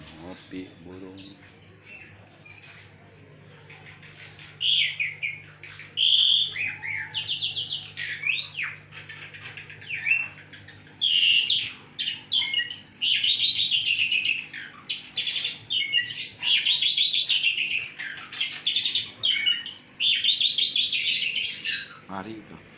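Chirping and whistling from hookbill parrots in a breeding aviary fills the scene, with dense, overlapping bright calls and squawks that grow louder and more continuous, set over a low steady hum.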